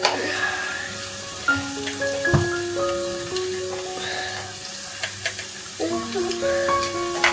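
Food with garam masala cooking in a pan: a constant close sizzle with stirring scrapes and clinks of a utensil against the pan, a few faint tones in the background and no clear speech.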